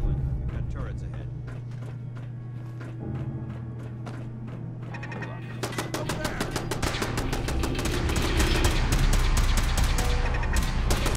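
Rapid automatic turret gunfire in Fallout 4, a dense burst of sharp repeated shots erupting partway through and continuing loudly, with speech and game sounds under it.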